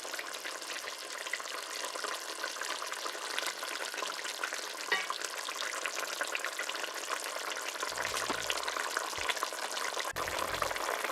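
Colombo sauce for chicken colombo reduces in a pan with a continuous close bubbling sizzle while it is stirred, and a few soft low thumps come from the pot near the end, with no voices.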